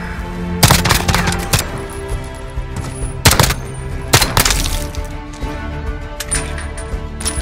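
Gunfire in the Call of Duty Modern Warfare video game, loud bursts of cracking shots and rapid automatic fire spread unevenly across several seconds, with sharp crack-like peaks amid a dense, rumbling battle mix.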